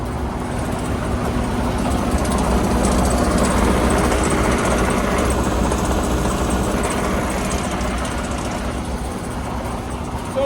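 A Freightliner M2 truck engine idles steadily while building air pressure, a continuous, loud, even diesel drone with a low hum and no change in pace throughout.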